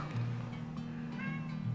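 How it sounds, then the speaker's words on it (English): A house cat lets out a couple of faint, short meows indoors over a low steady background hum. "you just don't stop meowing"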